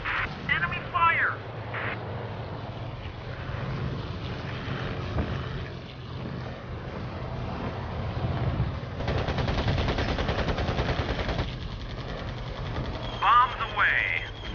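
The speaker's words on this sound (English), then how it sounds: "Enemy fire!" Enemy machine-gun fire in the World War II air combat game Air Conflicts: Pacific Carriers, a steady loud rattle under a continuous aircraft engine drone, with brief radio-style voice calls over the top.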